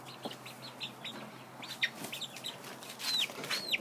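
Backyard chickens of mixed breeds, including Rhode Island, Ameraucana, Barred Rock and Australorp, cluck softly and intermittently nearby, with a few higher chirping calls toward the end and no talking.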